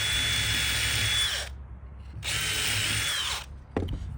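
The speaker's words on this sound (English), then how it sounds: "I like to go ahead and drill those first." A power drill bores hinge screw holes in a cabinet door, with two close, loud whirring bursts of about a second each separated by a short pause, then a brief knock.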